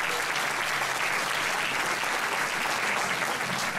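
An audience in Assemini at an awards ceremony applauds in a dense, continuous wash of clapping, steady and full throughout with no pauses.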